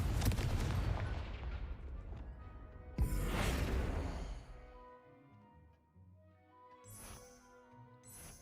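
A Confringo blast spell cast in Hogwarts Legacy bursts twice as loud explosive booms with long crackling decays, then the scene settles into quieter game ambience and a few soft shimmering effects.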